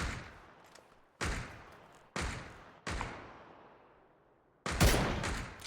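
Gunfire in a video game, four loud, sharp shots spaced about a second apart, each ringing out in a long fading echo, followed after a pause by a heavier closer blast.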